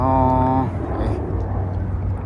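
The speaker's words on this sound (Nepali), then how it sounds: "अमेरिकन एयरलाइन्स प्लेन लगौडियामा बस्नको लागि आयो" A jet airliner passes low overhead, a loud, steady roar with a brief tonal whine at the start.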